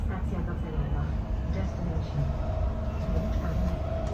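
Steady low rumble of an airport rail train in motion heard from inside a carriage, with a constant hum and rattling running throughout and people talking nearby.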